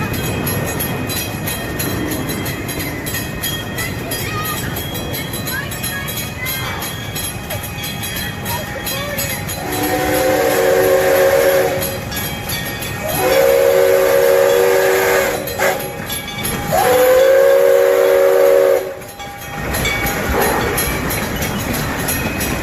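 Train rolling past on a Texas railroad, rumbling and clattering throughout, with several long steam-style whistle blasts in the middle and a voice talking over it.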